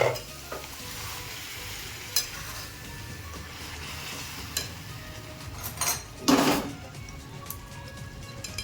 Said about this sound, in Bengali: এই পর্যায়ে আমি অ্যাড করব সামান্য পরিমাণে গরম জল।